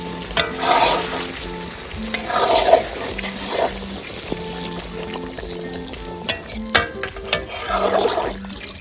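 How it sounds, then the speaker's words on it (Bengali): Water poured into a pan of frying home-style chicken curry, the sizzle and stirring of the hot oil and spices rising in bursts, close and steady, with no talk. "এবারে পরিমাণ মতো জল দিয়ে ঝোলটা বানিয়ে নেবো।"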